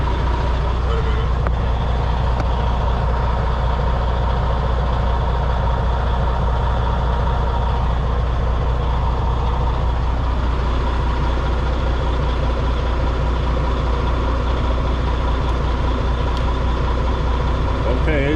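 Used lease semi truck running at an auction lot, a loud, steady diesel idle drone throughout, with someone talking close by over the engine.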